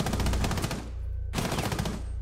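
Light machine gun fire in Rainbow Six Siege: loud, dense automatic bursts, close up, broken by a short pause before the rapid fire resumes.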